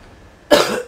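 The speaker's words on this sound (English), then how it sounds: "I'm not trying to cough into the mic." A single sharp, harsh cough made close into a microphone, bursting suddenly after near silence and trailing off raggedly.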